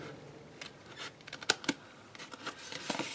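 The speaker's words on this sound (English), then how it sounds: "I just fold and I do my little angle cut." Scissors make angle cuts in folded paper with a few sharp, close snips and soft rustling, quiet and irregular.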